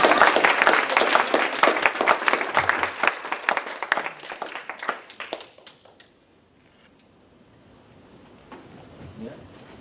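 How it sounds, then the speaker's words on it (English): An audience claps together after a presentation at a talk, a dense burst of applause that thins into scattered claps and fades out near the halfway point, leaving quiet room noise. "I think we should clap."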